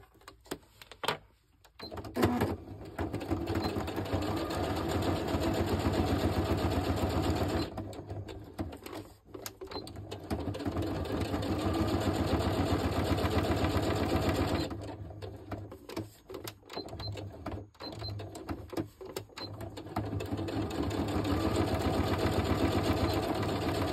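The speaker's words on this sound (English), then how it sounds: "So I'm just going to pull my sewing machine over here" A sewing machine stitches in steady, continuous mechanical runs, pausing briefly between bursts before starting up again, close and fairly loud.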